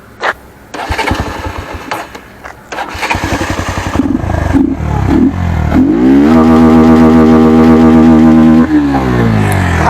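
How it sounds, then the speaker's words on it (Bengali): A Bajaj Pulsar NS 125 motorcycle engine cranks and starts, sputters through a few rough blips, then revs up loud and close and holds a high steady roar before easing off. "তো প্রথমত বাইকটা যেহেতু নিয়েছি তো তোমাকে লাউডটা শুনে নাও যাক।"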